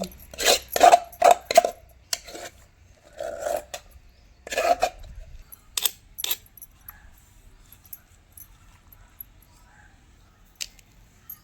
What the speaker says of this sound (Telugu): చింతపండు మొత్తం నూరుకుందాం